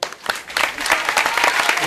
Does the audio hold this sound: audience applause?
yes